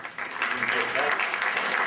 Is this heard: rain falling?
no